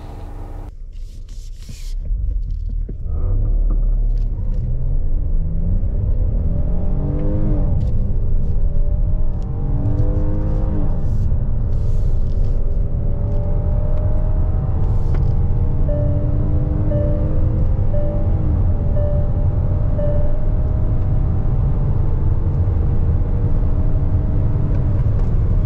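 A 2023 Hyundai Palisade facelift accelerates hard on the road, its engine rising from idle into a loud sustained roar with climbing pitch through several gear shifts, heard from inside the cabin with no talk.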